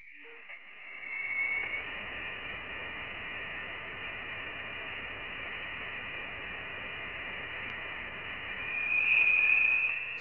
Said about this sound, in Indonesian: aku akan memutarkan suara ruang antar bintang atau interstellar